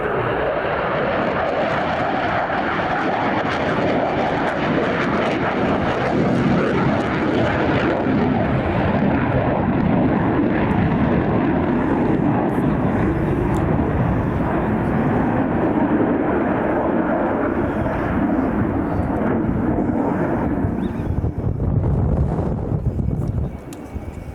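Fixed-wing aircraft making a slow, low pass at roughly 400 feet and about 120 knots during the Royal International Air Tattoo air show, its steady engine roar loud and continuous with some wind noise throughout.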